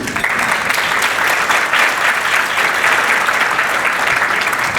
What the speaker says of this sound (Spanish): Recibamos con un fuerte aplauso al doctor Miguel Antonio Gutiérrez.